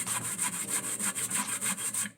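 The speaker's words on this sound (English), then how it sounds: "when you grate your coconut to make your rice and peas" Fresh coconut is grated by hand for Jamaican rice and peas, a close rasping scrape repeated in a quick, even rhythm of about a dozen strokes before it stops.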